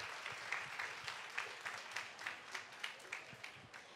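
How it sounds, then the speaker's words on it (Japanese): Soft, far-off audience applause for kumiko woodworking craftsmen at a crafts festival, rhythmic clapping with faint crowd murmur beneath. "稲村様、木俣様に今一度大きな拍手をお送りください。"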